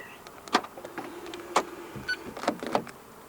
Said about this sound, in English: To lock the car, press the button on any of the 4 door handles.